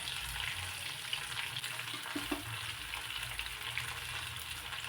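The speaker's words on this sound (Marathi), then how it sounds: "सगळ्या बाजूने चांगली अशी वांगी तेलामध्ये भाजून" Stuffed brinjals fry in oil in a pan with an even, close, continuous sizzle and faint scrapes from turning them partway through.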